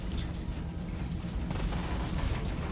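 Continuous heavy weapons fire from War Robots, a mech combat game: dense, rumbling booms and blasts overlapping with no pauses, with a sharper surge of impacts about halfway through.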